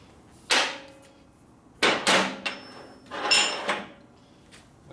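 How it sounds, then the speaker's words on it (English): Several sharp steel hammer strikes on metal during a 1958 Harley-Davidson Panhead top-end repair ring out at uneven intervals, each with a bright clang and short decay, with a quiet pause between them. "you hit your big steel hammer here and it knocks it in"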